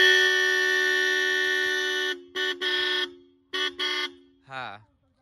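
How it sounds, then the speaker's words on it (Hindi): Original Roots horn fitted to a modified 2024 Hero Splendour motorcycle blares in one long, loud, steady blast, then gives three short toots and a brief falling tone, close by with no talking. "ये हॉर्न रूट्स ओरिजिनल ओरिजिनल है"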